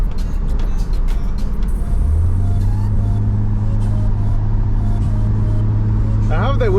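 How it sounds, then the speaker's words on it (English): Ford F150 pickup with a straight-pipe exhaust and no mufflers, heard from inside the cab with windows down: loud, rumbling low engine drone that rises and settles into a steady roar, with people talking over it. "I have the windows down so you guys can hear the exhaust"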